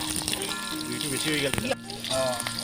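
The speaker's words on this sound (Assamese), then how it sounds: "এতিয়া পিঁয়াজখিনি ৰংচোৱা হোৱালৈকে ভাজিব লাগিব" Onions sizzling in hot oil in a pan while cooking a chicken dish, a steady frying hiss with brief clatters, heard under background music or voice.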